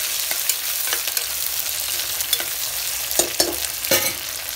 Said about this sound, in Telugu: సో ఆలు కూడా ఒక 5 మినిట్స్ ఫ్రై అవ్వాలి.